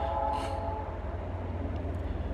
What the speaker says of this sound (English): you can hear a train in the background